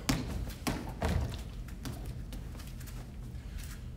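Punches and elbow strikes land on pads during a martial arts class: a few dull thuds early on, then softer taps and patter in a busy room.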